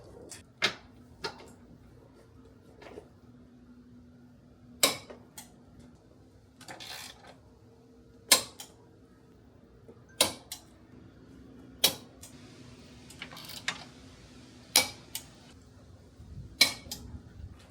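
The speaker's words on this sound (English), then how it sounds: "Now all left to do is torque these all down to 47 foot-pounds." A torque wrench tightens the subframe bolts on a Honda Civic FL5 Type R to 47 foot-pounds, giving sharp, isolated clicks every second or two over a faint background hum.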